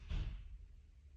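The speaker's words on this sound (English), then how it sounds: "Do you hear that door slam?" A single door slam, a short dull thud near the start that quickly fades into a quiet low room rumble; faint and somewhat distant, with no speech.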